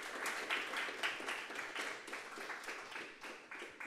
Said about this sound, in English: could we give a round of applause to Greg and Aram for coming through for us